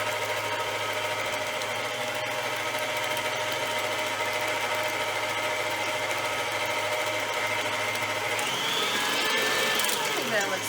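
A mixer runs steadily through brownie batter with eggs in a home kitchen, giving a continuous whirring motor drone. Its pitch shifts near the end.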